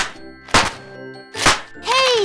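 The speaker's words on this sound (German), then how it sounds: "Hier sind Knallbonbons." Two sharp cartoon thunks from Christmas crackers being pulled at a family Christmas dinner, spaced about a second apart, with a ringing tone rising at the end.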